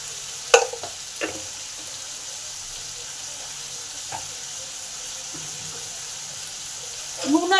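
Salt and turmeric being stirred into potatoes in a pan, with a few sharp scraping strokes of the spoon at the start and again at the end over a steady low sizzle.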